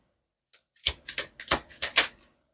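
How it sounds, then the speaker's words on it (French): Playing cards drawn one by one from a deck: a quick run of about seven crisp, snapping flicks, close and fairly loud, after a moment of near silence. "Donc je te prends 3 cartes."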